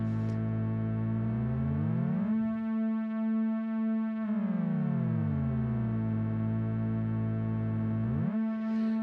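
A Behringer 2600 synthesizer sounds layered oscillators that slide in glissandos, converging onto a shared drone and then spreading apart again in repeating sweeps, a bright, buzzy, sustained tone with no voice.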